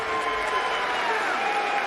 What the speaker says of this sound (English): This guy needs a round of applause